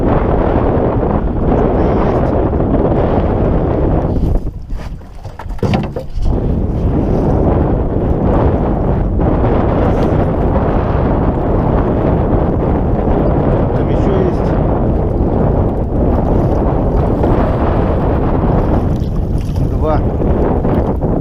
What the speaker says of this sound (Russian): Ветер все усиливается. Волна вообще уже капитальная.